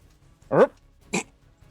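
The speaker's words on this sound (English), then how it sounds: "You are going to hear a sort of howling, whimpering sound on the staircase below you." A tabletop horror game sound effect plays howling, whimpering noises from a lighthouse staircase: two short whining cries half a second apart over a faint background.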